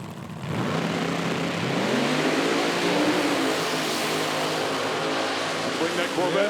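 A drag racing car at an IHRA Outlaw Nitro Series Pro Am event in Dinwiddie, Virginia accelerates hard down the strip, its engine note climbing steadily in pitch and holding loud after a quieter first half second.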